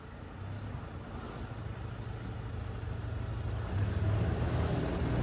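A Toyota Hiace van with a 3.0-litre engine drives along the road with a low, steady engine rumble and road noise from inside, gradually growing a little louder.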